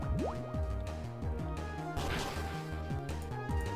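A Pokémon White 2 Water Pulse attack effect plays as a quiet, watery burst, with dripping, splashing blips and a sweep of liquid noise partway through. It sits among repeating chiptune game music.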